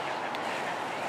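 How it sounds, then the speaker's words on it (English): Several ducks, including mallards, squabbling outdoors in a fight, a dense busy mass of quacking and splashing that fills the whole moment at close range. "Oh, we've got many ducks now."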